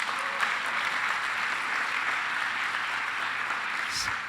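Steady applause from a church congregation during a sermon, a broad even wash of clapping lasting throughout at moderate level with no clear speech over it.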